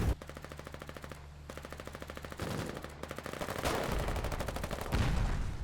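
Machine gun fire in the Foxhole war video game, as rapid, evenly spaced bursts of shots that run almost continuously, loud and close, with heavier impacts building toward the end.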